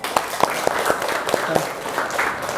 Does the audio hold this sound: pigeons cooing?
no